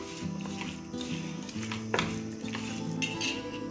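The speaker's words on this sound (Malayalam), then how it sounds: "പെപ്പറും ജീരകവും മന്തി മസാലപ്പൊടിയും ഇത് മിക്സ് ചെയ്യാം." A spoon mixes ground pepper, cumin and mandi masala powder in a metal bowl, with quiet scraping and light clinks of cutlery against the dish.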